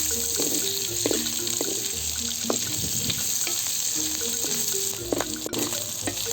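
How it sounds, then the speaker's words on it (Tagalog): Onion and garlic sautéing with meat in a pan for pinakbet, a steady hissing sizzle with light stirring clicks and scrapes throughout, moderately loud and close. "Nagisa na natin yung bawang at sibuyas"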